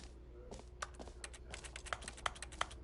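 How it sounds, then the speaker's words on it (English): Keystrokes clatter on a computer keyboard while playing the video game The Stanley Parable, a quiet run of quick irregular clicks growing sharper and more distinct toward the end over a low steady hum. "Type in invisible keyboard."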